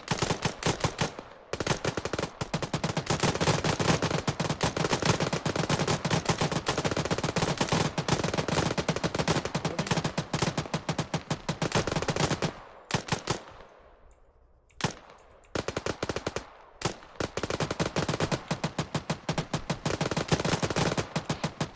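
Sustained automatic gunfire in a military shooter game, dense rapid bursts of suppressive fire running almost continuously, with a brief lull midway before the shooting resumes loudly.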